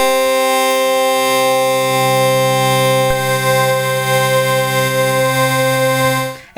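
Augmented Yangtze synthesizer playing square, sine and sawtooth oscillators together, a dense, harsh, buzzing sustained tone full of harmonics that holds steady for several seconds before cutting off abruptly at the end.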